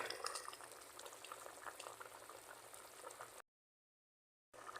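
Filipino ginisang monggo, mung beans sautéed with tomato and fish sauce, simmers in a pot with a dense bubbling boil close by, then the sound cuts out completely for about a second before the bubbling resumes.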